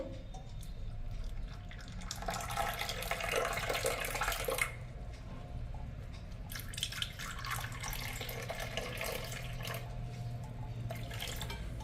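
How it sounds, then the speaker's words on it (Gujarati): Hot water pours steadily over tea powder in two bursts with a short pause between, a close liquid splashing stream over quiet background. "આ રીતે પછી આપણે ઉપરથી ગરમ પાણી પોર કરી દેવાનું છે"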